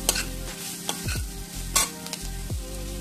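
Spiced bharangi greens are stirred in a hot pan, giving a continuous close sizzle broken by several sharp scraping strokes of a spoon across the pan, with no talking.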